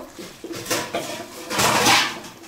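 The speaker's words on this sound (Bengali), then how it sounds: "এখন একটু ঢেকে দিব" A metal lid clatters onto a pot of mutton curry on the stove, with several close knocks and scrapes of cookware and a louder rattling clank as it settles.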